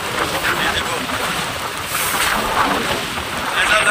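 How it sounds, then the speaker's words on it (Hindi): Strong storm wind gusting across an open roadside in Kutch during a cyclone, a steady loud roar of broadband buffeting against the microphone that keeps going throughout, with no speech. "और ये देखो गाइस कितनी हवा चल रही है।"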